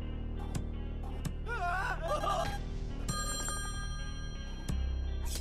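Telephone ringing in the video game Slayaway Camp, a bell-like ring recurring several times over a busy game soundtrack, with a melodic sting partway through and a low rumble toward the end.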